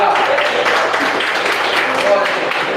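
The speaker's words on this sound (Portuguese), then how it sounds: "Uma salva de palmas para Jesus." A church congregation claps together in a dense, steady wash of applause mixed with voices, loud and close for the whole moment.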